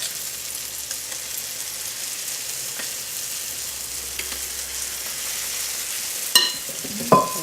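Buckwheat almond flour batter sizzles on a hot griddle with a steady, even frying crackle, broken near the end by two sharp clicks.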